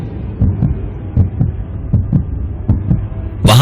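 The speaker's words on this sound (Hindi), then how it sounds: "राहुल की धड़कनें भी उस बंद स्टूडियो के सन्नाटे में जैसे गूंज रही थी।" A heartbeat sound effect in a tense audio story, made of a steady series of deep, muffled double thumps over a low hum, loud and close, with no talking.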